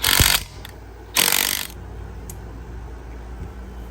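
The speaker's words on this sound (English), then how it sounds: "Next, I'm going to take the lug nuts off the tire." Lug nuts coming off a Dodge Avenger wheel: two loud bursts of a power tool or ratcheting wrench close by, separated by a brief pause, then a quieter mechanical hum with a couple of faint clicks.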